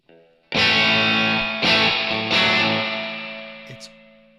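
Electric guitar played through the AmpliTube iPad app with reverb off: three distorted strummed chords ringing out one after another, each sustaining and slowly fading, ending with a faint pick noise.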